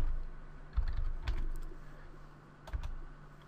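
Keys clack on a computer keyboard as a short command is typed into a Windows command prompt, a handful of quick close taps in two small bursts over a quiet background.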